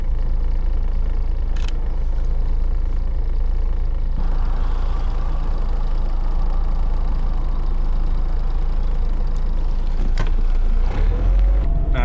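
Steady car interior road noise on a long cross-country drive across the United States, a constant loud low rumble of engine and tires that continues unbroken, with a brief knock near the end.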